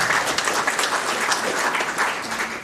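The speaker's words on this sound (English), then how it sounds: "we owe ourselves a hand clap" An evening tribute and honour function's audience claps together, a dense, even round of applause that stays loud and steady throughout with no voices over it.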